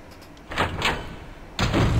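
A door opens in the video game Devil May Cry, heard as two short bursts followed by a louder heavy thud near the end, with no talking over it.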